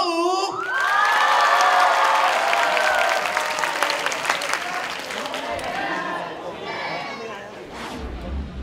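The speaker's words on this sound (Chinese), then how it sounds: "所以我们现在掌声欢迎我们的大和舞" A crowd at a dance troupe's showcase performance cheers, claps and shouts loudly and continuously, with children's squeals mixed into the roar before it slowly thins.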